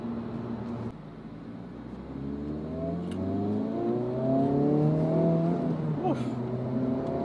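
Acura Integra Type S engine revs during a rev-matched downshift, rising tones climbing and dropping through the gears under a steady cabin rumble, moderately loud inside the car, with a short blip near the end.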